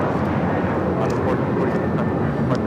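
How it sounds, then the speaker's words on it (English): Airplane taking off at Los Angeles LAX airport, a steady distant jet engine roar that stays even throughout, faint and broad, with a voice talking over it. "let me get this next takeoff"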